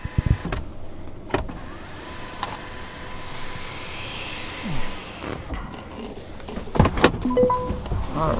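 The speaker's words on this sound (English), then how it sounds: "if things get too bright, kind of right now, you have power sunshades to help dim things down." The power sunshade motor in a 2022 Mercedes-Benz EQS 450+ electric sedan runs with a steady, muted electric whir inside the cabin, with a few faint clicks and bumps over the hum.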